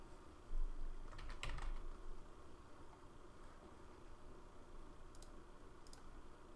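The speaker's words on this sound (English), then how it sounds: "All I did was typed into that block and then hit enter" A short burst of computer keyboard typing while entering text into a WordPress page block, a few quick close clicks, then scattered single key taps over a quiet room hiss.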